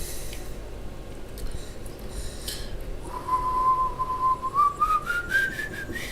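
A man with wet lips tries to whistle, producing a thin, breathy tone that emerges partway through and slides gradually upward in pitch, close and unaccompanied over faint background noise.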